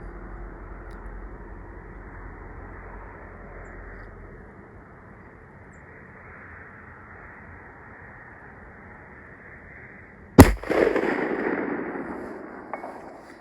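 A single sharp rifle shot rings out at a long-range shooting session at 600 yards. It follows a long stretch of low wind and background hiss and is trailed by a rolling echo.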